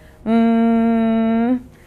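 A voice hums a steady, closed-lip buzz imitating a bumblebee, one sustained tone lasting just over a second, loud and close, with silence around it.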